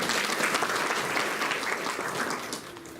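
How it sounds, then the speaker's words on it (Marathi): A roomful of workshop attendees clap together in a sustained, even burst. The applause is loud and continuous, then thins out and tapers off near the end. "आमच्या सिस्टर ताई आणि तुम्हा सर्वांसाठी पण जोरदार टाळ्या वाजवा।"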